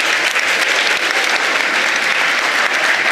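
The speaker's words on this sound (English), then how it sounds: "clap her for her honor" Loud, dense applause from an audience at a school ceremony honoring a primary-section board exam topper, sustained evenly with no break.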